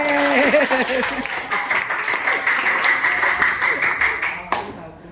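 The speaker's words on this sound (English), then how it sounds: "Everyone, let's do the bagus clap." A group claps together in a quick, even rhythm for several seconds, with voices chanting over the start before the clapping fades out.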